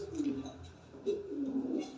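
A large black Hungarian house pigeon on a fancy pigeon farm gives low, rolling coos, two or three close swells with someone talking over them.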